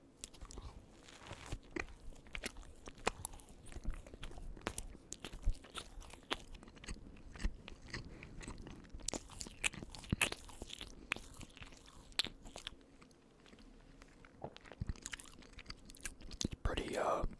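Close, quiet bites and chewing on a room-temperature pepperoni roll: soft bread crunches and repeated moist mastication sounds throughout, with low murmured talk at times.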